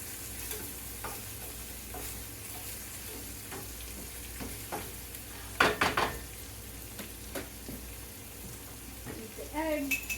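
A spoon scrapes and clinks around a hot pan of salted egg frying, with a soft sizzle beneath and a few sharper utensil knocks near the middle and end, all close by.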